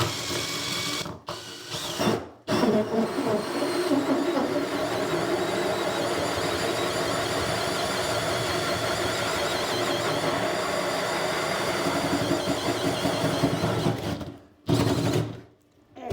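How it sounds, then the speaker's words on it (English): A drill bit's teeth grind a chamfer into a wall for an electrical plug during a rewire, a steady whirring buzz broken by several brief stops and restarts. "this now is the teeth cutting the chamfer to allow the plug to sit level"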